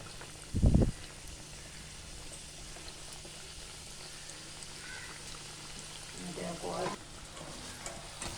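Samosas dropped one at a time into hot oil, a soft steady sizzle with a sharp louder burst near the start and more bubbling and clatter toward the end, under quiet background sound.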